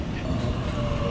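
A Sydney train pulls into a station, giving a steady, close rumble with a faint tonal whine above it. The sound runs unbroken and at an even level for the whole short stretch, with no talk.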